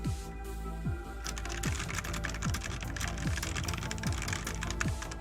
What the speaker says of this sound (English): Yeah, I was just typing.